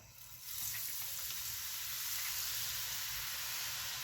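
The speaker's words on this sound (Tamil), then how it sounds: "எண்ணெய் நல்லா சூடாகி வந்திருக்கு நாங்கள் வந்து இப்போ பூந்தியை போட்டுக்கொள்வோம்" Boondi batter drops frying in hot oil, a steady broad sizzle that swells after the first half second and then holds loud and even with no voices.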